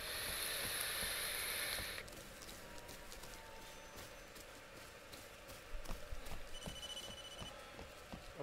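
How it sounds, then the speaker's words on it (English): A telephone rings in the Blair Witch horror video game, a bright electronic trill for about two seconds, followed by quiet scattered ticks and crackles in a hushed forest scene. "Even a phone call."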